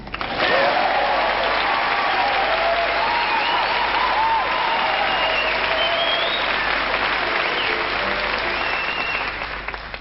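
A theatre audience at a live show applauds in a sustained, full wave of clapping, with cheers and whoops rising over it, holding steady before tapering at the end.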